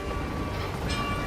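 A train in the Hitman 3 video game rolls along fast, a dense steady rumble with rushing wind and a faint high tone, loud and continuous with no voices.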